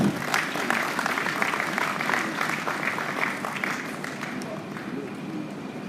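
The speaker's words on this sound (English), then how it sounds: "let's give him a warm round of applause" An audience at a graduate induction ceremony applauds, a dense sustained clapping from many people in a hall that slowly thins toward the end, with a voice faintly present beneath it.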